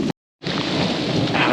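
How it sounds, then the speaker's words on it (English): Heavy thunderstorm rain pours outdoors on a bushwalk near a quarry, a steady loud broadband roar with rumbling underneath, cut by a brief moment of total silence near the start before the downpour resumes. "The storm's still right over us. We can hear that thunder real loud"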